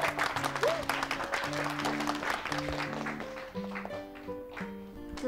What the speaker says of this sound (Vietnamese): Mọi người vỗ tay.